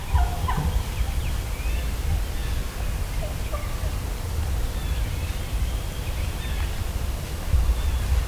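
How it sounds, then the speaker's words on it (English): Light, soft turkey yelps from a friction call, a few short series scattered over steady outdoor background hiss and low rumble, moderately distant. "I think having that little light yelp in there, turkeys do that way more than you think"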